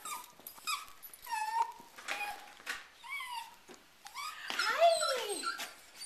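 Maggie the dog whimpers and yips in eager greeting at the door, a close, continuous run of rising and falling high whines and squeaks with no talking.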